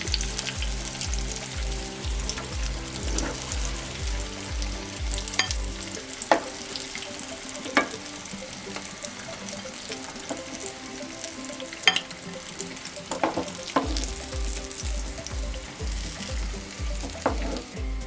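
Anchovies (netholi) deep frying in hot oil on a low flame, a steady close sizzle with occasional sharp crackles and pops, no voices.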